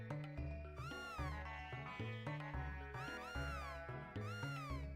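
In Chrono Trigger, Magus's pet cat gives two or three bending meows above looping chiptune-style background music, with no talking.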